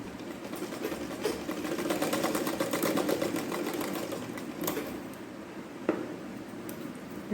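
A sewing machine stitches an umbrella frock top for a child, running in a continuous fast mechanical whir with a rapid needle rhythm, close and steady, and stopping with a small click near the end.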